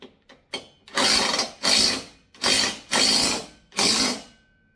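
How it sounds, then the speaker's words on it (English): A power drill whirs in short, loud bursts, about five in a row with brief pauses between them, close at hand, driving into a wall to mount a pull-up bar. "So let's just finish drilling this in a little bit further."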